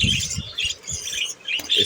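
Pet birds in an aviary squawk and chirp in quick overlapping bursts, loud and close, with no talking.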